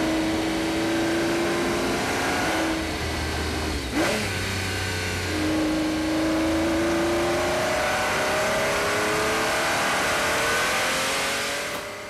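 A Pagani Zonda sports car engine on an Australian racetrack, a loud, steady engine note holding high and climbing in pitch through repeated revs and gear changes, up close and continuous without talk.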